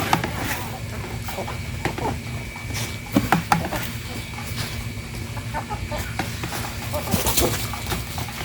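Chickens clucking around a farmyard on a laying flock's feeding round, scattered clucks and a few louder calls over a steady outdoor background, close and fairly busy.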